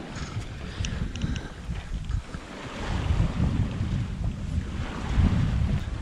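Wind rushes over a sailboat under spinnaker on a beam reach, a loud, continuous buffeting roar against the microphone with water wash underneath and no voices.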